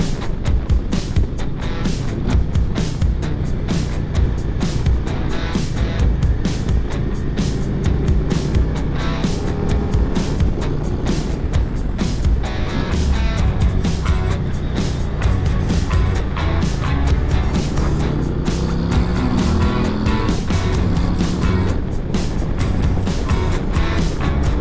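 A 2024 Harley-Davidson CVO Road Glide ST runs its last lap at Las Vegas Motor Speedway, a continuous loud engine and wind roar with steady throttle, no voices.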